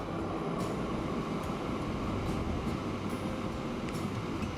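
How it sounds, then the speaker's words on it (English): A train in the game Transport Fever 2 rolls in with a steady, loud low rumble of wheels and engine, a continuous mechanical drone with faint intermittent clicks, no voices over it. "Here comes our new train."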